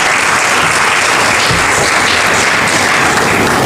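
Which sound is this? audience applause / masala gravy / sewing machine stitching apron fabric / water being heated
audience applause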